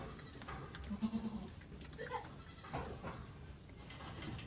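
A newborn Nigerian goat kid, tiny at just over a pound, gives a short run of faint, high bleats early on, heard close in a quiet barn with light background noise.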